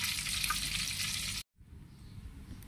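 Meat-stuffed chillies fry in hot oil with a loud, dense sizzle that cuts off abruptly partway through, leaving only a faint, quieter crackle afterward.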